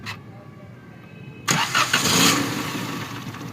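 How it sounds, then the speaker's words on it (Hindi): A 2021 Suzuki Alto with a starting problem, cranking but not starting, turns over and then catches. After a quiet moment the engine bursts into life and keeps running loudly and steadily, close by. "गाड़ी जो है ना अभी स्टार्ट कर रहे हैं दोबारा।"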